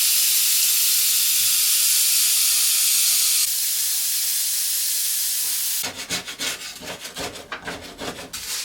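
Steam cleaner hissing steadily against an old wooden table, a loud continuous rush that drops slightly partway through, then gives way to rough, rhythmic scraping and rubbing strokes on the wood surface.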